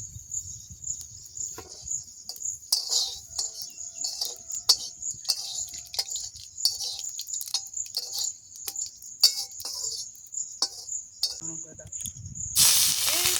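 Five-spice seeds (panch phoron) crackling in hot oil, a close, busy sizzle with a high, continuous hiss and a flurry of quick pops, swelling louder at the very end.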